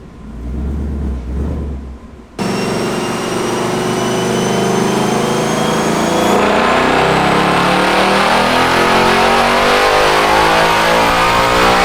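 Ford Mustang Dark Horse (S650) with a six-speed manual, revving hard on a dyno in 4th gear: after a short idle the engine bursts in loud and climbs steadily through one long full-throttle pull, close and alone.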